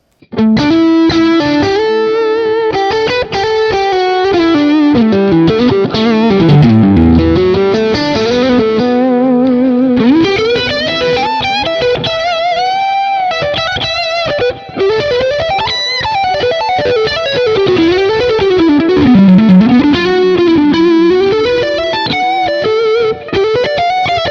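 A loud, heavily distorted electric guitar lead played through an amp plugin, a sustained, bending melody with effects and reverb, alone without talking.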